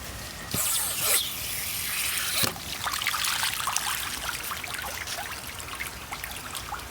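Rainwater gushes and splashes steadily from a gutter outlet draining the house roofs, a loud continuous rushing flow with occasional sharper splashes, no voices.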